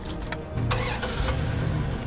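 A truck engine turns over and catches, then settles into a steady mid-pitched idle and rev, heard close and alone.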